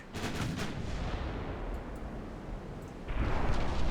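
Naval guns fire in the warship game Ultimate Admiral: Dreadnoughts, with booming rumbles rolling on continuously and a fresh heavy blast near the end, with no talk over it.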